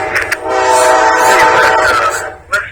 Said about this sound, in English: comes the Amtrak.